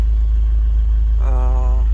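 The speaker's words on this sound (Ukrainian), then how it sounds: "двигун робить без ніяких помилок, ніяких нарікань немає" A steady, low engine rumble from a 2005 Opel Zafira with six-speed manual runs throughout, idling nearby, with a brief tonal hum rising over it near the end.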